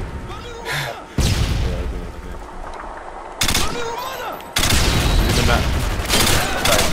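Gunfire from Call of Duty Modern Warfare 2 in Search and Destroy, loud bursts of rapid shots and booms arriving in several blocks, close and dense, with a voice talking between them.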